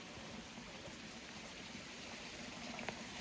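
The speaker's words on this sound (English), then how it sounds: "I listen to the water." Steady rushing of flowing water outdoors, a continuous even wash of sound with no pauses.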